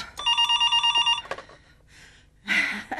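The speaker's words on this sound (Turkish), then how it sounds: "Telefon." An old-style telephone bell rings in a fast trill, followed by a short clatter and other household sounds.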